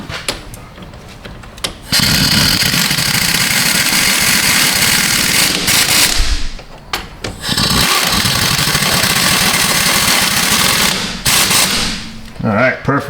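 A 3/8 inch impact wrench works on Chevy Tahoe suspension during an upper control arm and lower ball joint job. It gives two long, loud, rattling hammering bursts close by, separated by brief pauses.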